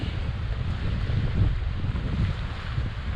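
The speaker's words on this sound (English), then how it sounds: "This is what the wind is like" Early-morning wind on an Algonquin lake during a solo canoe trip, a steady low rumble of gusts buffeting the microphone with faint lapping water underneath.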